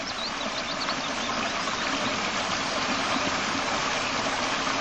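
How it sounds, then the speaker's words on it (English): Steady broadband rushing of a stream in Scotland, continuous and fairly loud, with a constant low rumble underneath and no voices. "Just love the sound of rushing water."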